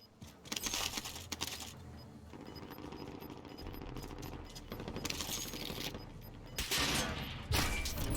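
Gunfire from Call of Duty: Warzone, with a sniper rifle shot among dense bursts of game firing and mechanical clatter, loud and continuous with sharp bursts near the end.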